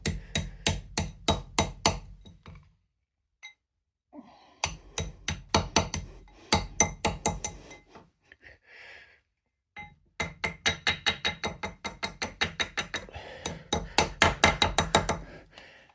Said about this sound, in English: now I'll take the ends and hammer them towards becoming a ring